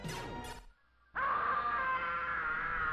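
Boss character's digitized scream from the SNES video game Home Alone: a brief harmonic yell, a short gap, then a long loud sustained scream with steady tone, alone without talk.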